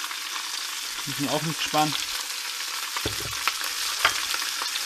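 Vegetables with garlic paste and tomato paste frying in a pan, a constant close sizzle that runs beneath someone speaking German in short bursts.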